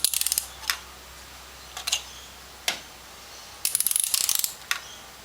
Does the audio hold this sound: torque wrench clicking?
yes